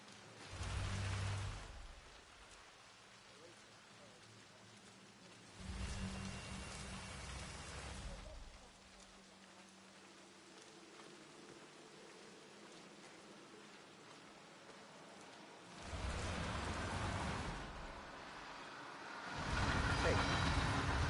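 Steady rain falling in the video game Hitman 3, a constant hiss with swelling louder gusts, heard under someone talking.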